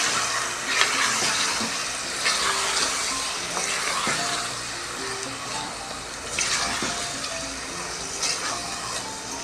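Tomatoes frying with meat in a pan for a bhindi gosht dish, a continuous broadband sizzle with occasional stirring scrapes, close and fairly loud, without speech.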